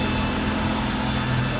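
A 4.3 liter Volvo Penta GXI engine in a 2010 Regal 20-foot bow rider, idling with a steady even hum and low drone, close and constant, with no talk.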